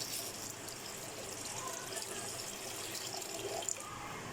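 Water pouring steadily into a pan of onions, a continuous rushing splash heard up close without any talking.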